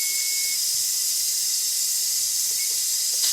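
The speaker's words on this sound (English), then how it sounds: "we're just going to let it boil for 25 minutes with the lid on" Pressure cooker on high heat with the lid on, canning pears: a steady, even hiss of escaping steam runs without a break at moderate loudness.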